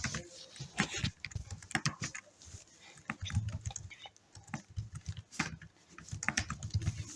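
Fingers type Python code on a computer keyboard in steady, irregular bursts of soft clicking keystrokes, close and fairly quiet, with no talking.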